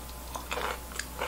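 Crisp pickled garlic cloves, peeled and stored a year in the refrigerator, are chewed close up, giving a few soft, wet crunches and bites over a low steady background hum.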